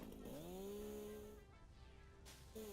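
A chainsaw in the video game Satisfactory cuts down trees, its faint buzzing drone rising in pitch, holding, then briefly revving again near the end.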